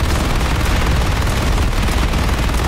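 Dense, continuous gunfire in the online shooter game PlanetSide 2 fills the scene with loud, overlapping bursts of shots and booms that run without pause.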